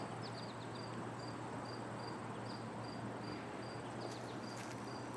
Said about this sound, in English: And the insects and the bugs and the bees.